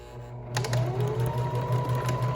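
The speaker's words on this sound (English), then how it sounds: "When I get to the end, I'm going to go ahead and backstitch, so hold my backstitch button." A sewing machine starts up after a short pause and runs at a steady rhythmic hum with rapid stitching pulses while backstitching at the end of a fabric seam, close and alone.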